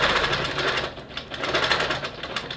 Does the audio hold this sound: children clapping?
no